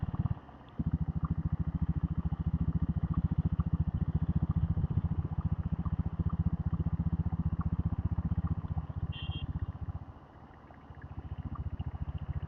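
Diesel Bullet motorcycle ridden at night from Keelkattalai to Camp Road, its engine a steady, dense thumping drone throughout, briefly dropping away near the start and again toward the end as the gears shift.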